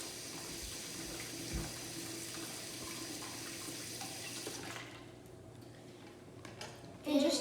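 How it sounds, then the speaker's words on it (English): Water runs steadily from a kitchen tap while hands are washed after handling raw egg for a chocolate chip pizza, a continuous hiss and splash that thins out near the end. "So please, I insist you, wash your hands after"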